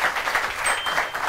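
Audience clapping at a Brazilian music event, a brief burst of steady crowd applause at moderate level, no one talking over it.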